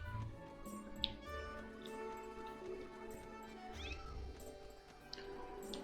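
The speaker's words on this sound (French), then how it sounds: "Alors qu'on porte un chat" Cat meowing while being carried in the Zelda Skyward Sword video game: several short mews scattered over a soft, steady game background.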